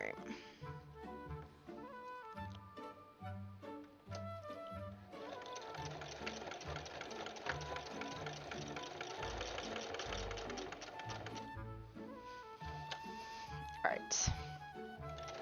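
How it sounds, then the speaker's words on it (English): Sewing machine fitted with a walking foot stitching binding onto a charity quilt, running in short bursts then a long steady rapid stitching run, close and clear. "feeding feet on the walking foot, sometimes it is a little more challenging to get the fabric under it"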